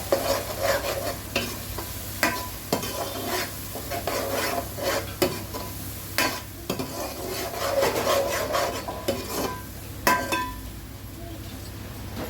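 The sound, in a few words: green chili paste being stir-fried in oil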